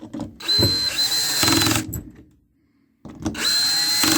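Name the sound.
cordless drill driver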